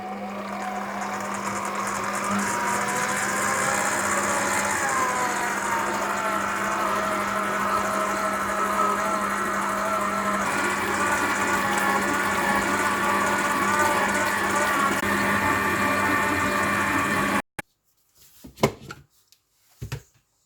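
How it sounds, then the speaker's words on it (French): A bread machine kneads pizza dough for mini pizzas, a steady mechanical motor hum with a low drone running unbroken for about seventeen seconds, then cutting out abruptly, followed by a few faint handling knocks. "Je vais la renverser à l'appareil. Et je vais pétrir 1 minute."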